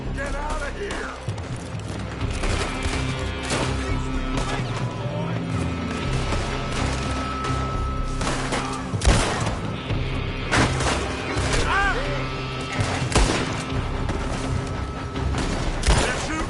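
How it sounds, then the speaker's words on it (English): Sustained gunfire from a building in a video game, dense volleys of shots and booming impacts rolling continuously for the whole stretch, with voices shouting underneath. "They're shooting from that building."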